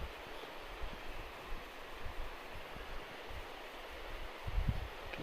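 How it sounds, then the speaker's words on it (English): A creek flows down below a nature trail, a faint, steady wash of rushing water heard from a distance with soft rustling and a few light bumps. "You can hear the creek loud down in there."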